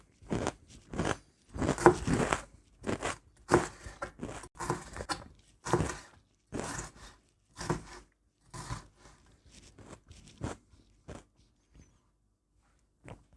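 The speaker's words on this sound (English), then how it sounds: "I'm sorry if you can hear the chewing, by the way, because you definitely might be able to." Close, intermittent crunchy chewing and biting in short bursts with quiet gaps between them, during a kitchen session cooking spicy chicken fajitas with homemade pico de gallo.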